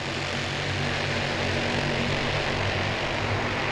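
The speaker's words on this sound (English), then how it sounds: "once they get on the back straightaway and you hear all those Champ Kart engines in unison" Champ Kart racing engines roar together along the back straightaway of a racetrack, a loud, steady, unbroken drone with no gaps, filling the whole stretch.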